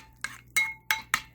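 A spoon clinks four times against the inside of an Instant Pot while warmed milk is stirred into yogurt culture, sharp bright taps spaced evenly and close.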